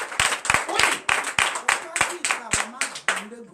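Congregation clapping in rhythm during a church deliverance night in Benin, with regular sharp claps about three per second, close and loud, while voices sing or call out over them.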